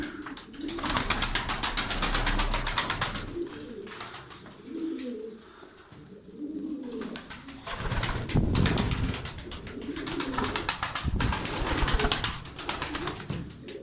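Pigeons coo in low, repeated throaty calls close by, with occasional rustling and flutters in between.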